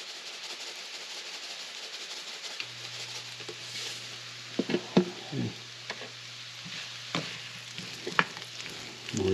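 Chanterelle mushrooms with a pinch of salt sauté in a pan, a soft steady sizzle close by, punctuated by occasional clicks and scrapes of stirring.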